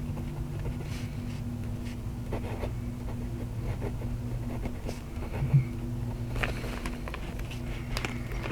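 Vintage brass pocket fountain pen scratching across paper, faint close strokes and soft taps over a low steady background hum, with no talking.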